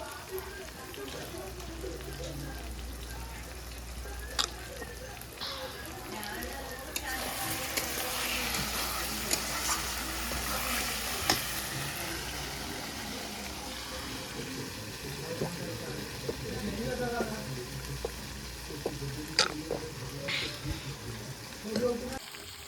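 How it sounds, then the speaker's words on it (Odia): Chicken leg pieces stir-fried on a stove, a continuous close sizzle and frying hiss with scraping stirs throughout, while a person talks over the cooking. "ଚିକେନ ପୁରା ଦେଖନ୍ତୁ ପୁରା କଷା ହେଇକି ପୁରା ରେଡ଼ି କଷା ହେଲା।"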